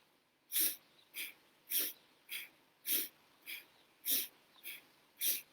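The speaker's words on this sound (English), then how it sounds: "Okay, so inhale, exhale." Nine rhythmic, breathy inhales and exhales alternate at a steady pace during a relaxation exercise, close and fairly quiet, with no speech.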